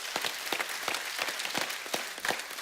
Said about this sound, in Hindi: और हमारे जवानों के लिए एक बार जोरदार तालियां हो जाएं।